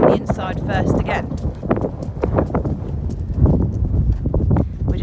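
A horse's hooves beat out a rhythmic canter while it makes a flying lead change, a quick run of near thuds mixed with gusty wind noise.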